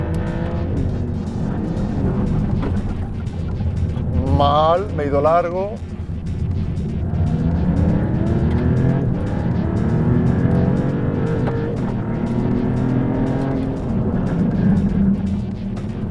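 A Maserati MC20 GT2 Stradale's powerful engine drones loudly and steadily on a race track, rising and falling as it accelerates, with a brief tyre squeal. A driver talks throughout over the noise.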